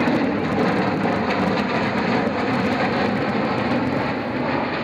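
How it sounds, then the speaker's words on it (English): Lockheed F-117A Nighthawk stealth jet making a slow-speed pass at an air show, a loud, continuous broadband engine roar that stays steady and close with no pause. "Captain Russ Champ Hall is turning the F-117A now, unofficially nicknamed the Black Jet. He'll make a slow speed pass."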